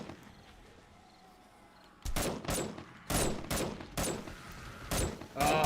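Sniper rifle fire in 7 Days to Die: after a quiet stretch, five or six loud, sharp shots crack at roughly one-second intervals, up close with no speech.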